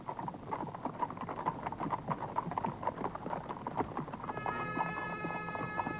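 Hooves of a gray horse clip-clop in a slow, steady rhythm as it is ridden by, fairly close, with a faint high droning tone entering near the end.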